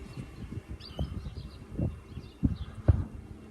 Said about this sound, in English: we've got some birds up.